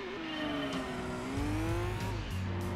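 A Nissan Skyline race car engine in the video game Gran Turismo 2 at Laguna Seca, whining at high revs, pitch rising and dipping through gear changes, close and steady with a buzzing, synthetic edge.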